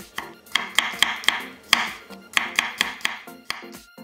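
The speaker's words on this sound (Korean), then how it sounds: "통마늘 8개는 굵게 편 썰고" Knife thickly slicing whole garlic cloves on a cutting board for whelk oil pasta, a close run of about a dozen crisp, evenly spaced chops with a short pause midway.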